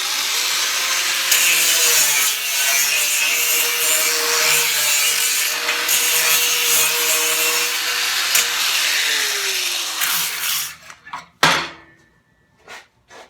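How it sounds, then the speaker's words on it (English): Sanding the edge of a part for an offset smoker build with a 36 grit sanding pad gives a steady, loud abrasive rasp that runs unbroken for about ten seconds, then stops, followed by a few sharp knocks and handling clunks. "It has a 36 grit sanding pad, and I'm gonna sand it just around this edge so it'll fit in better"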